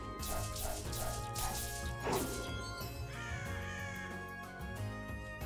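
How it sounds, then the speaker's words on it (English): Crows caw in the video game Touhou: Scarlet Curiosity, several harsh calls layered over game music, followed by a crash and a rising tone, all at a steady moderate level. "Oh, I hear crows."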